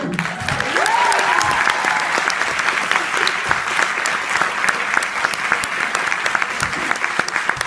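Cinema hall audience gives loud, continuous applause after a film screening, dense clapping throughout with a few voices and a brief whistle-like call near the start.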